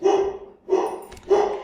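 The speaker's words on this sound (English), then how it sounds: "apologise for the dogs barking in the background" Dogs bark in the background, three separate barks spaced roughly half a second apart, fairly loud and with no talking over them.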